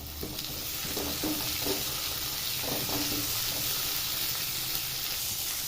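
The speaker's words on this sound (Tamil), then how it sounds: "வெங்காயம் தக்காளி நல்லா வதங்கி வரட்டும்." Chopped onions and tomatoes sauté in a pan for egg gravy, giving a loud, even hiss of frying throughout, with a few light stirring scrapes early on.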